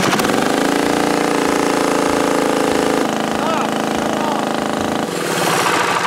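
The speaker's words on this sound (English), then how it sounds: "It's a stupid little cheap dune buggy for the kids" Small engine of a cheap kids' dune buggy running at full throttle, a loud steady buzzing drone with slight shifts in pitch, held close for about six seconds with voices in the background.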